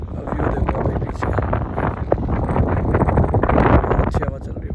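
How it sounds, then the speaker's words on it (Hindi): Strong wind gusts buffet the microphone beside a lake, a loud continuous rumble under someone talking. "ये देखो हवा भी कैसे चल रही है"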